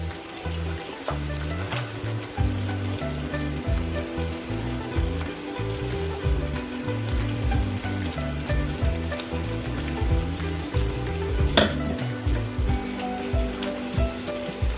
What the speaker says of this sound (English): We'll stir this on low flame only, and then we'll add salt according to taste.